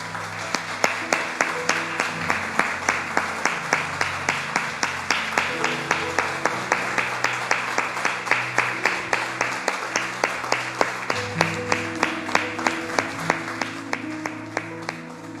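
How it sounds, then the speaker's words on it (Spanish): A church congregation claps in steady unison to the beat of music. The sharp, regular claps repeat over the whole stretch alongside sustained instrumental tones. "Y dale un aplauso al Señor, mi hermano y mi hermana."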